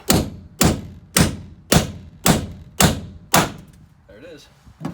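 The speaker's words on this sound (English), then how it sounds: "I'm using a big ball peen, but I've got a 3-pound sledge too" A big ball peen hammer pounds rivet heads off a school bus during a conversion, giving seven loud, evenly spaced metallic thuds close by. A voice briefly follows at the end.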